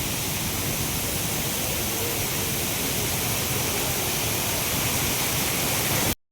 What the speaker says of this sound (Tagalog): Grabe, ang lakas ng ulan, no.